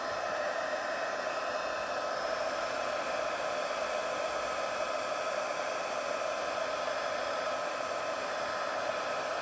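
A handheld craft heat tool blows a constant, airy whoosh as it heat-sets sticky Versamark ink, a smooth, hair-dryer-like rush that stays steady and close the whole time with no talking.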